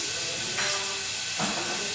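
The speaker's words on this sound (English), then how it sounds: "As you see, you hear the noise from the motor." A Lego ceiling fan in a kitchen runs its motor at full speed, producing a constant airy whirring hiss with a faint whine and two brief swells in intensity.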